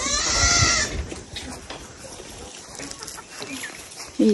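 Goats bleat nearby on a goat farm in Lamjung, Nepal, one loud call at the start and another at the very end, with quieter farmyard murmuring and rustling in between.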